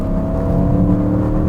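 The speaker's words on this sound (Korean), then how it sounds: "뒤에서 터지는 소리." Audi RS6 Avant running in a sporty drive mode, a loud, steady engine and exhaust drone carrying throughout with slight fluctuations, though distinct downshift pops are not clearly separated from the continuous roar.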